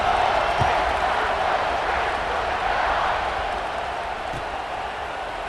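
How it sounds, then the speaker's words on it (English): Stadium crowd in the College Football 26 video game, a dense sustained murmur of thousands of fans buzzing after a score, steady and moderately loud with a few faint thumps, slowly easing in level. "this crowd is buzzing after that last score"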